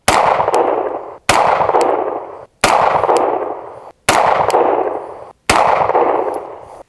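Five loud, evenly spaced gunshots ring out about a second and a half apart, each a sharp crack with a lingering decay, fired at a target with a Zulisy Owl budget red dot sight.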